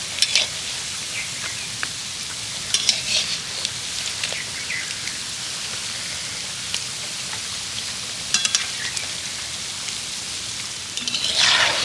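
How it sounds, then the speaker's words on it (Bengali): Sweets frying in oil and being turned over give a soft, continuous bubbling sizzle with scattered sharper crackles and occasional light clinks, steady and close, with no speech. "এবার আমি আস্তে আস্তে উল্টে দেবো, আর এগুলোকে উল্টে পাল্টে সুন্দর করে লালচে করে ভেজে নিতে হবে।"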